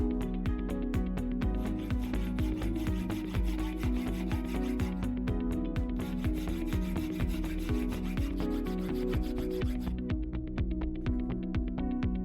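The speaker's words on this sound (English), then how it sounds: "filed it to dimension" A hand file rasps across a 1 mm stainless steel strip in a metal workshop, producing steady, rhythmic back-and-forth strokes, close and fairly loud, continuing alone without talk.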